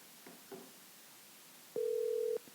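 A telephone call being placed, with a few faint dialing clicks followed by one steady ringback tone burst, quiet and without talk.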